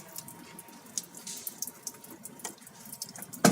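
Water rushes and splashes as a Tata Nano's radiator and extra coolant container are flushed out, a continuous hissing stream with irregular splatters and a louder burst at the end.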